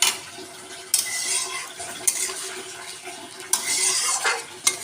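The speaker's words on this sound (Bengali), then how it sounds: "এই যে জলটা আমি দিয়ে এবারে নাড়িয়ে চাড়িয়ে ফুটিয়ে" Mustard hilsa curry with added water stirred in a pan, a steady scraping stir over a low simmer, with a few sharp utensil knocks against the pan scattered throughout.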